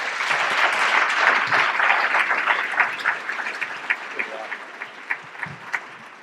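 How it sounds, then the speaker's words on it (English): Audience applause welcoming two candidates to a Minnesota gubernatorial debate on workforce issues: loud, dense clapping at first that thins into scattered claps and fades. "Round of applause."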